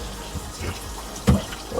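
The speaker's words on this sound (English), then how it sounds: "let the water run a little longer just to make sure" Kitchen faucet water running into a sink during a check of a leaking drain assembly, a steady, close hiss of flowing water with a brief louder splash near the end.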